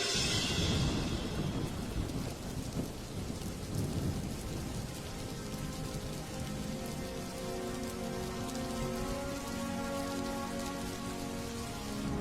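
Heavy monsoon rain pours steadily onto surfaces, with thunder rumbling low near the start, then a dense, even hiss of falling water that carries on alone to the end.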